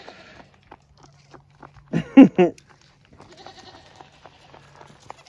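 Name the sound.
goats bleating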